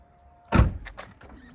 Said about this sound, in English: there's buttons up here to close the doors